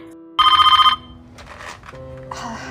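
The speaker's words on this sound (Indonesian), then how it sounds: "Telepon berdering" A film telephone bell rings loudly in one bright burst of rapid trills, followed by quieter voice-like sounds and a soft tonal score.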